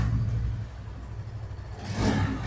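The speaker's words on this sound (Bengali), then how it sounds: "তো এক্সস্টের সাউন্ড আমি আপনাদের দেখাচ্ছি" A 2025 Bajaj Pulsar N160 motorcycle with underbelly exhaust, idling with a low rumble and then revving up briefly near the end, heard close and loud.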